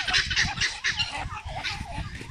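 Ducks in a mixed flock quack and honk in dense, overlapping bursts, loud and close, with a steady clamor of fowl calls throughout.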